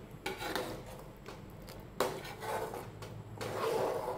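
Paneer peas masala being stirred in a cooking pan, with scattered scrapes and clinks of a spoon against the pan in short irregular bursts, fairly quiet and close.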